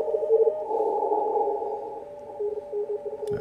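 Morse code signals in contest conditions, heard on a radio through a 600 Hz filter with no DSP help: several overlapping steady tones keying on and off, dense and fairly loud, with no voices.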